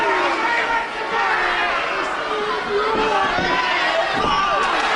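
Wrestling crowd at a Kendo Nagasaki versus Lee Bronson bout roaring and chattering steadily throughout, a dense continuous mass of voices with a commentator talking over it.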